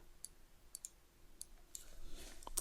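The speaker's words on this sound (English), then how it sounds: "Double click on this" Quiet computer mouse clicks in AutoCAD, including a quick double-click, sound as small sharp ticks scattered over a faint background hiss.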